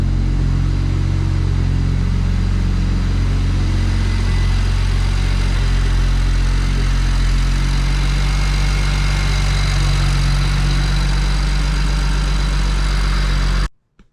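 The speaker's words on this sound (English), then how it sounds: "All right, she's running." A car engine idles after a BMP forward-facing intake manifold install, a loud, steady low rumble close to the microphone that holds evenly before cutting off abruptly near the end.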